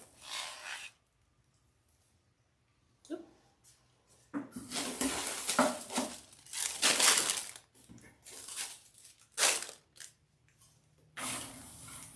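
Plastic-wrapped patriotic decoration stems for a trendy tree craft crinkle and crackle in loud, irregular bursts, separated by short quiet gaps, with no talking.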